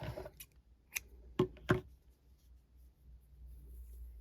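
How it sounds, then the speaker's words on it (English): Scissors snip crochet yarn in a few sharp, close cuts, two crisp ones standing out in a near-silent room, with no talk. "like the other rounds, I can cut that off"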